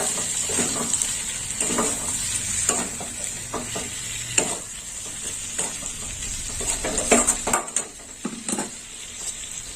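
Spoon stirring salt into fish and eggplant (aubergine) curry frying in a pan, a steady hiss of sizzling oil under repeated scraping and knocking strokes, close and continuous with no voices.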